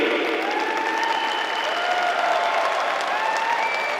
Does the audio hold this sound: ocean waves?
no